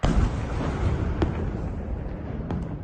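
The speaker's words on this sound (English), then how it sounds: "we can see an explosion right here" An explosion rumbles at a burning Russian military base, a deep sustained roar with a couple of sharper cracks, heard from a distance and alone.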